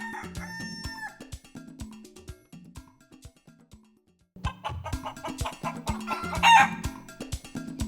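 Kienyeji chickens in a shed clucking steadily with a rooster crowing, close by, several birds overlapping with no talk.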